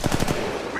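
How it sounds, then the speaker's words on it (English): Rapid automatic gunfire in the mobile shooter game Apex Legends Mobile, a short burst of four or five fast shots that tails off into a noisy rumble, loud and close. "Getting shot at."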